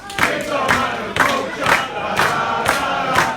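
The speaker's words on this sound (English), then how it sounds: "The Sacrifice Pro crowd showing their love for Tig." Pro wrestling crowd at a Sacrifice Pro submission match, cheering and chanting in loud rhythmic surges that swell roughly every half second, with occasional thuds beneath the roar.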